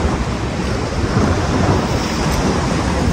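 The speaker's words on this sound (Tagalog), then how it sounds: "Yung mga be, inuulan na kayo mga be. Galakas ulan." Heavy rain falls at an outdoor street food spot, a loud, steady, dense roar that fills the whole stretch without a break and has no speech over it.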